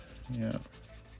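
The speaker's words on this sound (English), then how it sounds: "Take a Q-tip here and make sure everything's down along the edges." A Q-tip is rubbed along the edges of a decal on a Chevy II Nova wagon fire department model kit, making a soft, brief rubbing sound, close and quiet.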